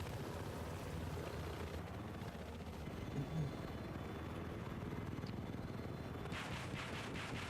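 Military helicopters in a 20v20 multiplayer video game match, a steady distant rotor chop and engine drone, fairly faint, with a brief louder sound midway.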